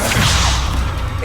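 A Petrificus Totalis spell fired during a duel in the Hogwarts Legacy video game: a sustained whooshing, crackling magical swish with a heavy low rumble underneath, loud and close, lasting just over a second with no talk over it.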